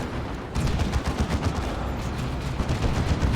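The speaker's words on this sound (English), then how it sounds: "There's your Razorback then. Twin linked heavy bolter mounted on the top." Twin-linked heavy bolter mounted on a Razorback in the video game Dawn of War 2, firing a dense, loud stream of rapid shots that starts abruptly and keeps hammering without pause.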